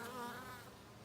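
A bee buzzing close by near garden flowers, a brief, soft, steady hum that fades slightly toward the end.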